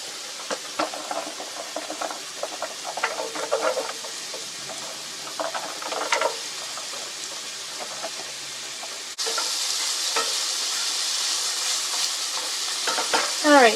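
Carrots frying in a pan seasoned with ground ginger, cooked in a van kitchen: a steady close sizzle with occasional stirring scrapes and clatter, briefly louder near the end, no talking.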